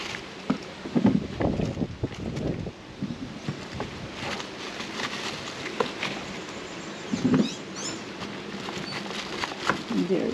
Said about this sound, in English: It's a windy day, guys.